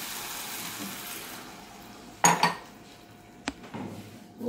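A metal lid goes onto a cooking pot of bacon and water for farofa, a sharp clatter followed by a second brief clink and faint background noise, with no voices.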